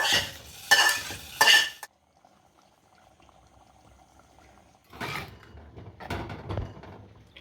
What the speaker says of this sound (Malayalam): ഇനി നമുക്കിത് കറിയിലേക്ക് ഒഴിച്ചു കൊടുക്കാം